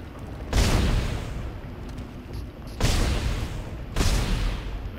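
Heavy gunfire from shooting enemies in the Dead Space video game, three loud booming blasts each followed by a long rumbling decay, spaced a couple of seconds apart with no talking.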